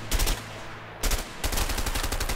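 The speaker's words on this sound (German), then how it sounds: "Okay, ich kann jetzt auf jeden Fall schießen." MP5 submachine gun fire in the video game A Way Out, rapid automatic bursts, loud and close, broken by brief pauses between three volleys.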